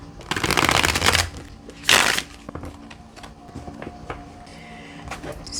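Tarot cards are shuffled in a dense, crackling riffle that flutters loudly for about a second, then a second sharp burst, followed by softer scattered taps and card handling.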